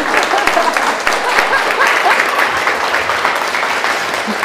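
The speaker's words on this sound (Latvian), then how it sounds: "Un jūs plaukšķinat," Audience applauding at an inspirational lecture at a brand meet-up, dense steady clapping from a sizable crowd that sustains loudly throughout with no pause.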